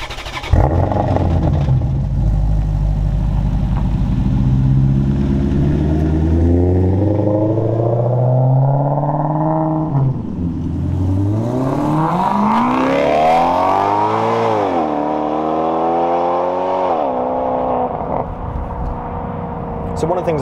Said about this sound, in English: let's get the car on and let's go for a really fun drive